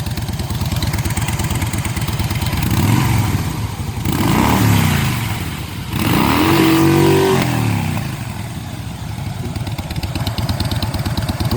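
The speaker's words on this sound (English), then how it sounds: "that's what the stock Fat Boy sounds like" A stock Harley-Davidson Fat Boy motorcycle idles with a loping, uneven rumble, then revs up three times in rising and falling swells before settling back to idle, close and loud with no talking.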